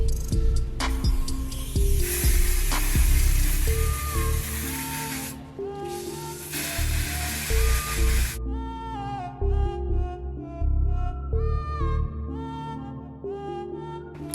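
An aerosol spray hisses in long bursts over a synthetic wig, close and steady, with music playing loudly underneath throughout.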